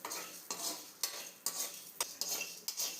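Dal and chillies dry roasting in a pan, stirred with a metal spoon that scrapes and taps the pan in a steady rhythm of about six strokes over a faint dry crackle, close by with no talk.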